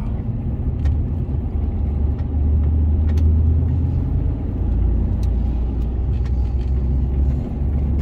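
Continuous low road rumble from inside a truck cruising along a highway through the Gunja tollgate, with faint clicks and ticks scattered over the engine drone.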